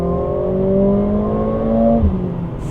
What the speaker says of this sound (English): Downshift, you can feel it from 4th now.